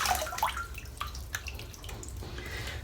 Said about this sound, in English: I'll just give it a little bit of a splash now